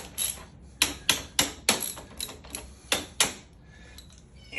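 A ratchet with a 3/4 socket tightens a bolt on a wheelchair wheel, giving a run of sharp, close clicking strokes in an uneven rhythm, with no talk.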